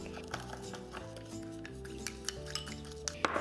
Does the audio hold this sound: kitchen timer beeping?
no